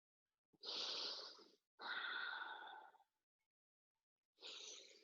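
Deep breathing during a yoga flow: two long, airy breaths in close succession, then a pause and a third breath, close and clear with no talking.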